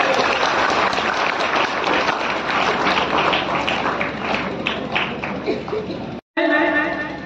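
Loud sustained applause from an audience at a community program, dense clapping throughout with a few chuckles, cutting off briefly near the end before resuming.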